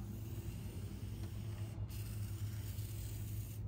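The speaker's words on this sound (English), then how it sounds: "Maybe we'll just use some of this spray cleaner on the dash too for now." Spray cleaner hissing in a steady, faint, continuous spray onto the dashboard of a 1960 Crown Victoria panel truck, heard up close with a low hum underneath and no talk.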